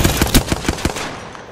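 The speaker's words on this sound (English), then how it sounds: "Opening fire." Rapid burst of automatic gunfire from a weapon in Apex Legends, about six sharp shots in quick rhythm over the first second, loud and close, then fading into a decaying reverberant tail.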